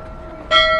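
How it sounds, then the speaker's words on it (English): A ship's bell at Chatham Dockyard gives a single bright metallic strike that rings out and sustains briefly over faint background noise. "There's a bell here."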